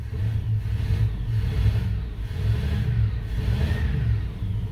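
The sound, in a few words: 1987 Dodge Ramcharger engine running and revving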